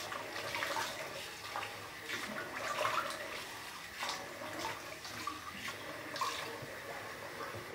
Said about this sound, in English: So I'm just gonna do cold water splash.